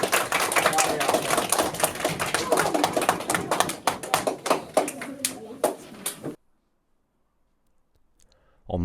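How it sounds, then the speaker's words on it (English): Audience applause from a group, lively irregular clapping that thins into scattered claps before cutting to silence, with a sound returning at the very end. "I think that deserves a round of applause from everybody."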